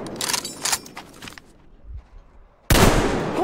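Gunfire in the video game Metro Exodus: a quick string of sharp shots, then a near-silent pause, then a sudden loud burst of firing at close range.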